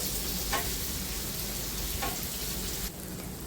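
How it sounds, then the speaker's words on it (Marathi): Fish shallow-frying over a slow flame in a pan, a steady close sizzle with a soft rain-like crackle throughout, a few faint clicks, and the hiss dropping slightly near the end. "चांगली क्रिस्पी अशी तळून घ्यायची आहे"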